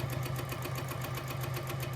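A sewing machine runs steadily during free-motion quilting. Its rapid, even needle rhythm gives a close, mechanical hum with fast regular pulses and no pauses.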